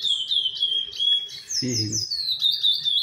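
Curió, the chestnut-bellied seed finch, sings a loud, close run of clear whistled phrases, with someone briefly speaking over the middle of the song.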